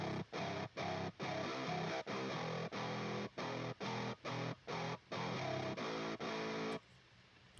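Heavily distorted electric guitar from the Odin 3 guitar VST chugs in tight, stop-start djent-style bursts with abrupt silences between them, then cuts off, leaving a faint hiss.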